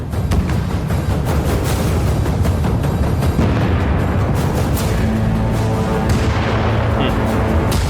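A Leopard 2A4 tank in battle against Russian armoured vehicles fires amid a dense, continuous roar of booming blasts and rumbling gunfire, loud and sustained throughout.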